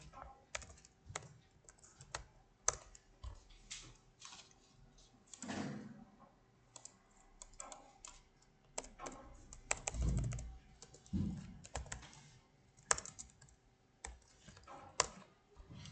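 Code being typed on a computer keyboard, a steady run of light, quick key clicks with irregular rhythm and occasional heavier strokes, close and fairly quiet, with faint low thuds and no speech.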